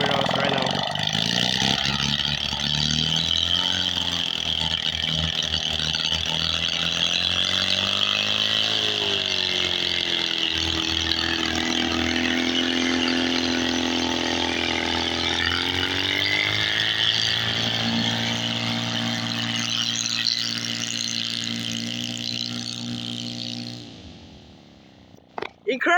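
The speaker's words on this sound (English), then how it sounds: "Wow, this engine is totally freaking out" A two-cylinder engine test-runs on a grass runway with a loud, raspy, continuous roar whose pitch wavers and surges. It holds steady for over twenty seconds before fading and cutting off abruptly.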